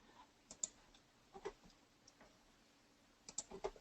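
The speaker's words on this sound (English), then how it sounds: "And I'm left clicking and delete." A computer mouse is left-clicked while editing a card design, giving a few faint, sparse clicks in small clusters against a quiet background.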